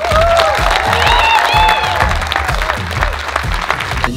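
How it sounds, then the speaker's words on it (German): A crowd greets racing driver René Rast with loud applause and cheering, dense clapping throughout, whistles rising above it, the roar easing slightly toward the end. "mit einem lauten Applaus, René Rast!"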